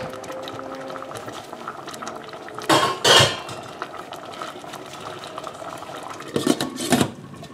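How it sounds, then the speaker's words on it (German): Maggi broccoli pasta with minced meat bubbling under a lid in a pot, a steady low simmering hiss with a couple of louder clattering bursts, likely from the lid or pot being handled. "das Ganze soll jetzt 12 bis 15 Minuten zugedeckt kochen."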